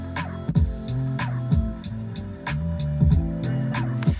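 Bass line ideas laid into a song in progress, heard as a repeating low riff with punchy notes at a steady rhythm over a full backing mix, moderately loud and with no voices.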